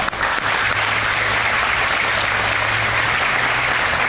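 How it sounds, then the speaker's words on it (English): Audience at a county school graduation applauding ribbon winners: dense, even, continuous clapping, loud and steady throughout without talk. "Let's give them a round of applause"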